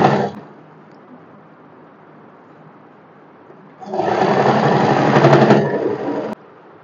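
A sewing machine stitches the double-folded hem of a co-ord set in two bursts, a short whir at the start and a longer, louder rapid run later, with quiet handling between.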